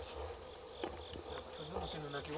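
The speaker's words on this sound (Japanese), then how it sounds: "これスズムシちゃいますの？" Bell crickets (suzumushi) chirp at night outside a temple visited as a haunted spot, a steady high continuous trill running throughout, with faint low voices murmuring underneath.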